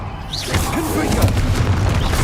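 A Confringo spell explosion in Hogwarts Legacy lands as a loud, booming blast over rumbling game noise, with a voice speaking briefly in the mix.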